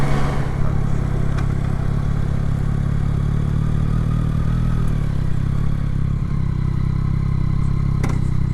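A motorcycle engine runs steadily throughout as the bike is ridden, a constant loud low drone with no voices.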